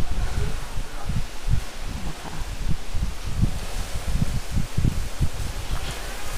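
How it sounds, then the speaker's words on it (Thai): Strong storm wind rushes through leaves in a steady, gusty roar with low buffeting bursts throughout and no voices. "ลมแรงมาก"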